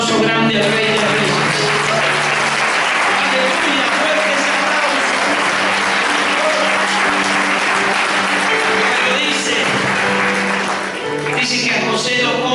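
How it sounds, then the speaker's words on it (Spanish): A church congregation bursts into big, sustained applause for the full length, dense and loud with a faint crowd murmur, easing briefly near the end before swelling again. "denle un aplauso grande al Rey de Reyes"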